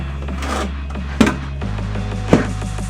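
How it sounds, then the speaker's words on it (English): A trowel mixes Kerdi thinset mortar in a bucket, sounding as close scraping and rubbing strokes with two sharper knocks against the container, over a low steady hum. "Kerdi trowel, mix it up a little bit looser than normal"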